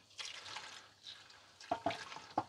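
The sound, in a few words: liquid gently poured into a container during car driveline repair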